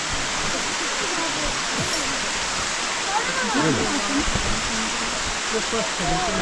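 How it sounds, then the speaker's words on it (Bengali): Water pouring at Elephant Falls in Shillong, a loud continuous broadband roar of falling water, close and steady, with voices faintly underneath. "এলিফ্যান্টা ফলসে এসে কিন্তু আমরা জলের দেখ জলের সন্ধান পেলাম এই হচ্ছে জল দেখুন আসছে"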